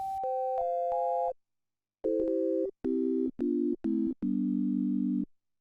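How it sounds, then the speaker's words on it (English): A PPG 360 Wavecomputer synthesizer plays a basic sine-like tone as a series of separate held notes, stepping down in pitch with short pauses between them, clean and steady with no voices. "It's just a basic sine wave."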